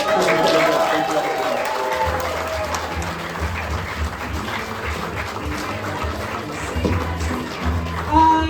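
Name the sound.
audience applause for comedians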